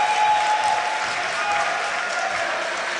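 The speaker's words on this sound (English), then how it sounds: "The crowd is cheering for him." An audience at a Yu-Gi-Oh card game tournament final in Milan applauds steadily, a dense, even wash of clapping with some cheering throughout, filling the space.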